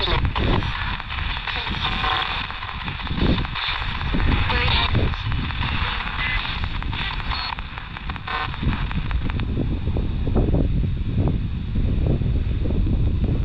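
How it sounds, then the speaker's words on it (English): Heavy wind buffets the microphone throughout at Castle Rising, a constant loud rumbling roar that never lets up. "It's so windy here."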